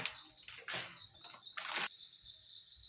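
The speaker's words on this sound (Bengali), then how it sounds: "এখন আমি ম্যাগি সিদ্ধ দিয়ে দেবো" Maggi noodle cakes drop into boiling water with several quick splashing, hissing bursts. A faint steady tone and light bubbling carry on after them, close and quiet.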